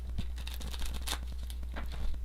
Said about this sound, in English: I know you guys hear the card shuffling.